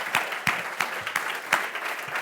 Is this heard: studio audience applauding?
yes